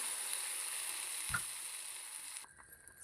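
Water goes into a vegetable curry frying in a pan, raising a steady close sizzling hiss with a brief clink partway through before the sizzle quietens.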